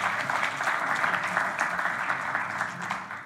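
A quiz audience claps steadily, a dense, sustained wash of applause that tapers slightly toward the end.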